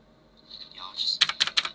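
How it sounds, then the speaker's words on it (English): Fast typing on a very loud computer keyboard, a burst of sharp, close clacks in quick succession that grows denser and louder toward the end, heard alone without any talk. "my keyboard is just very loud"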